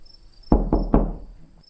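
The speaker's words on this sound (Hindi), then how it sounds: "तभी दरवाजे पर दस्तक होती है।" Three sharp, close knocks on a wooden door, spaced evenly, each with a short decaying thud, sounding over a faint, steady background of night crickets.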